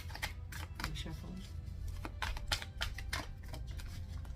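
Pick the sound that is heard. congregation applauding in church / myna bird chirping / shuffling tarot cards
shuffling tarot cards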